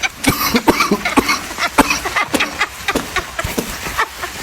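One person coughs in a rapid, close series of harsh bursts, loud and repeated throughout with brief gaps between each cough.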